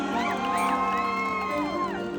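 Crowd at an outdoor mor lam concert in Ban Mi, Lopburi, cheering and applauding over sustained music with melodic tones, a dense wash of noise throughout.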